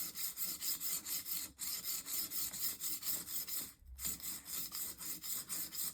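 A Pfeil drawknife is worked against a sharpening surface with a coarse secondary bevel, producing a steady, rhythmic rasping scrape in regular strokes, close and fairly quiet, with brief pauses where the edge catches.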